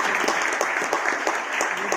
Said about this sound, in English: Give a big round of applause for the Member Finance